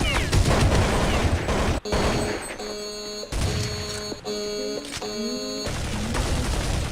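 Gunfire from the video game Counter-Strike 1.6, with dense, loud bursts of shots and clattering impacts running throughout alongside game sound effects, under a busy multiplayer soundscape.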